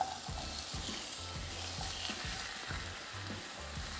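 Chopped onions and tomatoes frying in a pan for a roasted squash and tomato soup, a soft, steady sizzle with repeated stirring scrapes at an even rhythm, close and alone.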